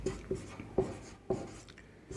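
Chalk or marker writing on a board during a physics lecture on damped oscillations, a series of short, sharp tapping strokes in an uneven rhythm, close and quiet, with no talking.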